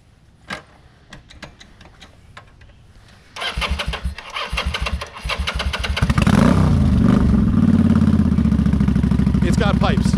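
A Kawasaki Vulcan 800 cruiser motorcycle with aftermarket pipes is cranked a few times and catches, then settles into a loud, close idle, with people talking before and during the start.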